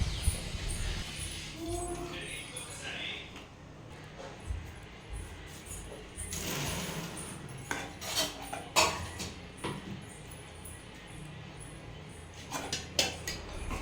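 Spoon scraping and clinking in bowls as freshly cooked nellu leaf curry is stirred and transferred to another bowl, with irregular metallic taps and scrapes, close by in a quiet room.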